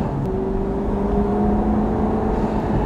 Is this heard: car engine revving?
yes